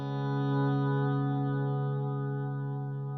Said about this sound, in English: So here's a volume swell just with the delay.